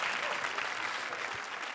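A comedy show audience applauds, a steady, even burst of clapping filling the whole short stretch at a modest level.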